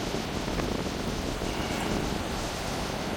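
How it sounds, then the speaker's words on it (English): Strong wind roars and buffets the microphone without a break on a Greek island coast with surf, a dense rushing noise with no voices. "That's what you call a tad windy, isn't it really?"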